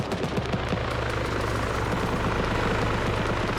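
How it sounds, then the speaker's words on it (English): Steady roar of a helicopter engine and rotor in a military video game, a dense unbroken drone with no clear impact sound standing out. "I just heard that chopper take another hit"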